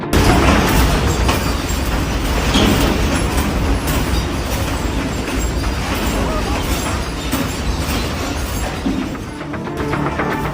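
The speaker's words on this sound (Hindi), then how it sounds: "अचानक धरती हिली तो जान बचाने के लिए लोग कुर्सियों के नीचे छिप गए।" Heavy continuous rumbling and rattling as an earthquake shakes a restaurant in Japan, a dense, loud roar lasting throughout with no clear pauses.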